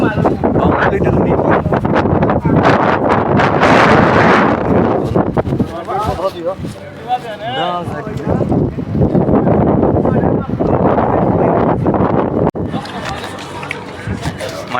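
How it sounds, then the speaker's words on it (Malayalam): Strong wind blasts and buffets the microphone in Mafraq, Abu Dhabi, a loud, roaring gusty rush that swells and drops, while people talk and call out over it throughout. "ഭയങ്കര കാറ്റായിരുന്നു, ഭയങ്കര കാറ്റ്."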